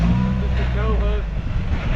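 A 3-link 1986 Toyota pickup crawls off-road at low speed, its engine rumbling steadily nearby with a brief rising rev in the middle.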